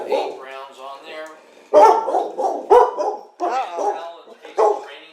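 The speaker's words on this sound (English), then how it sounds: "Apparently, dog barking is not part of that." A dog barks repeatedly at close range, loud and sharp, with short yipping and whining sounds between the barks.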